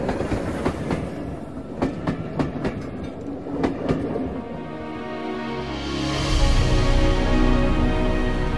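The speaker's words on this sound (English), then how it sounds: "the train enters the Democratic Republic of Congo." A Rovos Rail train rolls along tracks into the Democratic Republic of Congo, its wheels clicking over rail joints in a steady clickety-clack before settling into a louder, continuous rumble.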